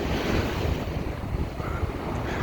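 Sea waves at a 9.5-metre high tide on the Blackpool seafront, a continuous loud wash of surf mixed with heavy wind buffeting the microphone, no voices.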